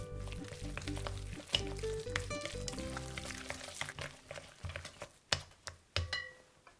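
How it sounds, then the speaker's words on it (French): Chicken gyoza filling with soy and oyster sauce, sesame oil and cornstarch being mixed in a bowl, producing wet squelching and sticky slapping, with irregular close clicks and knocks that grow sharper toward the end. "Je mélange jusqu'à obtenir une texture bien collante."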